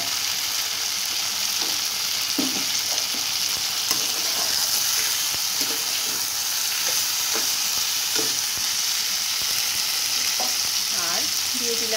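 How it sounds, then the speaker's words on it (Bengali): Prawns sizzle in a pan of spice paste as they are sautéed for a Bengali potol chingri dish, a steady frying crackle with occasional stirring clicks close by and no voices. "এবার এই কষাতে কষাতে আমি এর ভিতরে চিংড়িগুলোকে দিয়ে দিই।"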